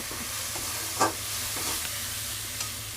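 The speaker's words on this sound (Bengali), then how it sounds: "এবার এটাকে একটু নাড়াচাড়া করে নেবো মশলাগুলোকে একটু ভেজে নেবো সামান্য" Chili powder, cumin powder and salt stir and fry in a pan of oil while cooking potato paneer, a steady soft sizzle broken by a couple of scraping stirs of the spoon, with no voices.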